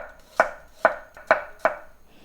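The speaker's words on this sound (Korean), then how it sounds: "가늘게 좀 채 썰어 줄게요." Knife cutting onion into thin strips on a cutting board: four crisp, evenly spaced chops, close and distinct, about half a second apart with quiet gaps between.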